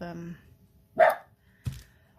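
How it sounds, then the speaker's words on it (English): Two short dog barks, one after another, with a brief tonal vocal sound just before them. "this blinking dog, does he not know when to stop barking?"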